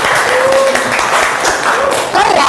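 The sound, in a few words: classroom applause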